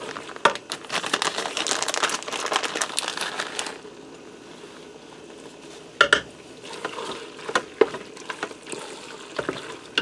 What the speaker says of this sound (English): You just want to stir till your cheese melts